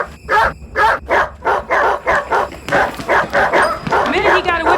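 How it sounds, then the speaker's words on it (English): Several dogs bark and whimper in a loud, close, evenly paced series of yelps and barks, ending in a whining cry. "We can't go out there with the dogs."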